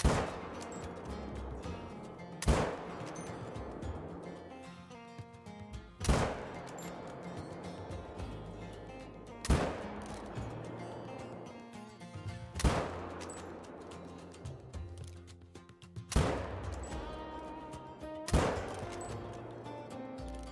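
Rifle shots ring out while hunting in the video game theHunter: Call of the Wild. About seven sharp, loud reports come a few seconds apart, each with a short echoing tail over quieter ambient game sound.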